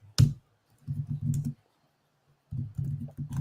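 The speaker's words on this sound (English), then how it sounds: "Oh, don't hurt us with your keyboard." Hard, forceful typing on a computer keyboard in bursts of clustered key strikes, with a sharp loud hit at the start and pauses between flurries, fairly close and with no talking.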